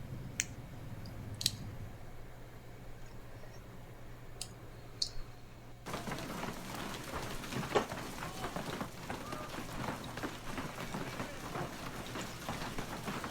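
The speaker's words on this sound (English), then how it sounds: "Oh, that hail?" Hail falling outdoors, heard as a dense patter of hard little impacts that starts sparse with a few sharp clicks, then suddenly grows into a loud, steady rattle from about six seconds on.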